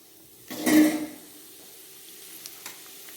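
Cinnamon, cumin and cloves hit hot oil with one loud, close burst of sizzling that quickly fades into a faint steady fry, with a couple of light taps near the end and no talk.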